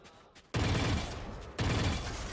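Gunfire in a Valorant esports match comes as two dense, noisy bursts a second apart over a steady background wash.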